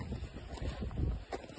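Strong wind buffets the microphone on the Kedarkantha snow trek in the Himalayas, a steady low roar with gusts swelling and easing across the short stretch.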